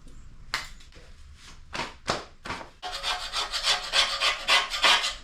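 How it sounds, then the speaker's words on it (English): Scraping and brushing gunk off the subframe of a rusty 1969 Camaro, first several separate rasping strokes, then a quick continuous run of rough brushing strokes, close and fairly loud with no talk. "Basically now I'm just going to go along and scrape off and brush off as much of the gunk as I can."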